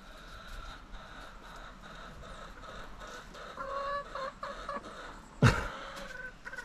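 Chickens clucking on a farm in Jamaica, scattered soft clucks and calls at moderate distance over low ambient noise, ending with one sharp louder squawk.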